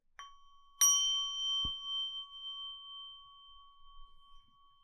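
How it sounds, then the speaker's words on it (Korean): A bell struck once lightly and then firmly, ringing with a long, steady sustain that hangs on for several seconds, with a brief knock partway through; no talking. "종소리가 아주 오래 가네"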